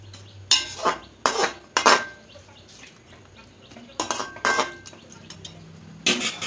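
A utensil scrapes and clinks against a pot in several separate bursts as chicken is mixed with the leftover spice-marinade water, close and alone with quiet pauses between strokes.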